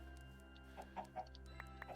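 Chickens in the Minecraft Stoneblock 4 modpack let out a few short, separate clucks over a steady low game hum, each one distinct and close.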